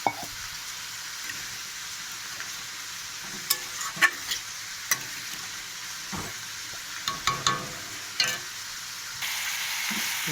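A curry of browned egg masala is stirred in a pan after a mug of water goes in, with scattered scraping and clinking strokes over a quiet, steady simmer.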